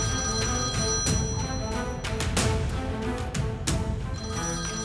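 A home telephone rings with a continuous warbling tone under a thick layer of background music, broken by several sharp knocks and clicks, all fairly loud.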